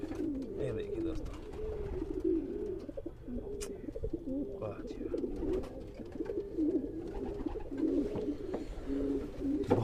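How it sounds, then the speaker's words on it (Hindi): Pigeons kept in a breeding box coo in soft, repeated low rolling calls that continue steadily throughout, fairly close but quiet overall, with no talking over them. "बहुत ही बढ़िया कबूतर है"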